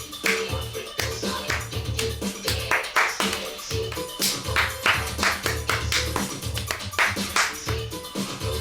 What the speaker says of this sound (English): That clapping is so unpleasing to the ear